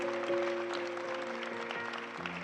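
A church congregation claps in a steady patter of many hands, fairly faint and mixed with a sustained organ-like tonal hum underneath.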